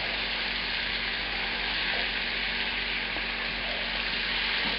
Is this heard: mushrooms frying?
yes